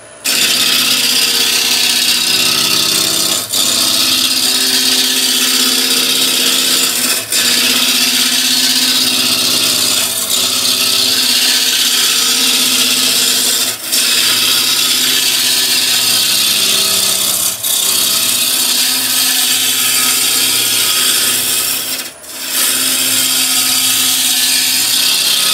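Woodturning tool sharpened on a CBN grinder in a workshop, a loud continuous motor hum with brief regular dips and clicks as the tool is pressed and lifted, no voices.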